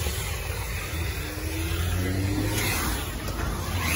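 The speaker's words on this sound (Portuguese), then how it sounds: "vamos aspirar lá o negócio" A coin-operated vacuum cleaner runs inside a dirty car, giving off a steady, close, rushing drone with a faint whine that holds constant throughout and has no talk over it.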